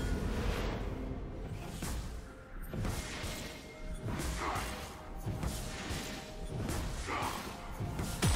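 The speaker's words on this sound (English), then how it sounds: "Blue team's turret has been destroyed." A turret crumbles in League of Legends, with crashing, whooshing impacts repeating amid busy battle effects and steady game clamor throughout.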